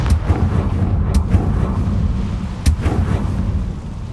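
Blasting spell going off in the Hogwarts Legacy video game: dense, loud rumbling explosions with sharp crackling bursts near 1.2 and 2.7 seconds over a continuous low roar.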